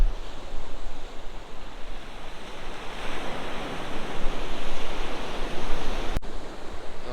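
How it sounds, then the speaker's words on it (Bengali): Sea waves breaking on a beach in Kerala, a continuous close roar of surf that swells toward the middle, heard alone with no talk. "মনে হয় সমুদ্রের আওয়াজ বুঝতে পারছ যে কতটা ঢেউ আসছে সমুদ্রের"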